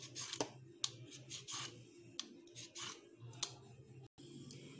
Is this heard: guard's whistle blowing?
no